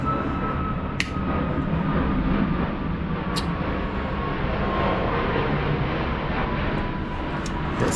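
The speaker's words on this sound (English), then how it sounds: "Sorry for the plane noise." An airplane passes overhead as a loud, steady broadband roar with a faint high tone, continuous throughout, alone with no speech.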